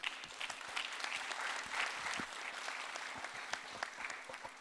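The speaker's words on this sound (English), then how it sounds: "I would like to ask everyone a last round of applause for them" A conference session audience claps steadily in a dense, even patter of many hands, sustained for several seconds without a voice on top.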